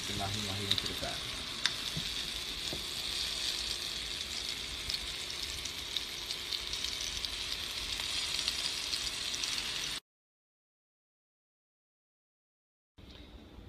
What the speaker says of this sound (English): you put the mahi mahi in the pan, it should be giving you a sizzling sound